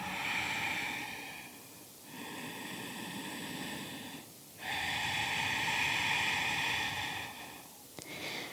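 A slow, soft exhale during a yoga forward fold, breathy and close, drawn out over several seconds and repeated in long waves above a steady hiss.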